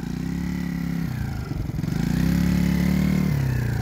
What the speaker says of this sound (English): Exhaust is getting a little louder on that thing.